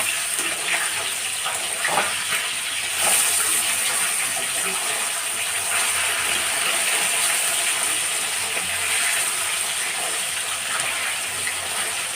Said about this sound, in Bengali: আমি মিক্সিতে একটু জল দিয়ে মিক্সির বাটিতে একটু জল দিয়ে আমি মিহি পেস্ট করে নিয়ে আসছি